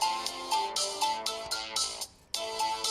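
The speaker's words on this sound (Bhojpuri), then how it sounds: "फोन आइल।" Incoming-call ringtone on a mobile phone playing a bright, repeating electronic melody close up, with a steady rhythmic pulse of notes and a brief gap before it resumes, no speech.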